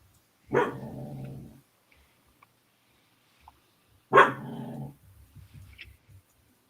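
A dog gives two sharp, close barks a few seconds apart, each trailing into a brief growling rumble, with quiet gaps and faint movement noise between them.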